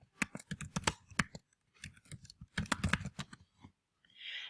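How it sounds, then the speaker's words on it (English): Quick bursts of keystrokes on a computer keyboard entering a web search, close and fairly quiet, with short pauses between bursts and no talk. "I'm going to come over here to my search and I'm going to type in"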